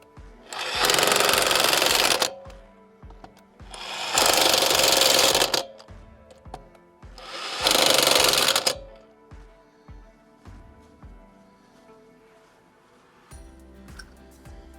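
Lug nuts on a 2018 Chevrolet Colorado wheel are run down with an impact wrench in three loud, two-second bursts, each followed by scattered clicks and clatter of sockets and nuts, then quieter handling noises.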